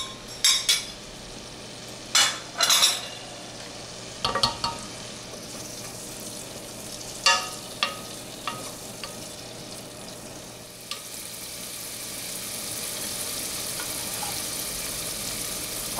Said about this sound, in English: your bell pepper, onions, and celery. And we want to cook these until they're somewhat translucent.